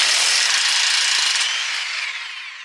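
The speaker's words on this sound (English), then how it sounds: "you are just going to want to put the 17 mil on the impact gun and put it in reverse" An impact gun running in reverse on a 17 mm nut during a coilover install on a Mazda3, a loud, close, high-pitched whirring burst that tapers off over a few seconds.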